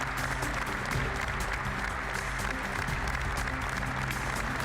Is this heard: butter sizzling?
no